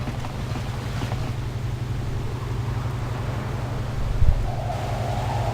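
A starship engine in Star Wars: Knights of the Old Republic gives a steady low hum with a pulsing rumble and a soft airy wash. It stays constant throughout, with a brief thump near the end.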